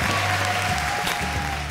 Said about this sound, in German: An der Stelle bitte einen fetten Applaus